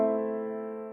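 A single sustained piano chord rings out and slowly decays, soft and clear with no other sounds.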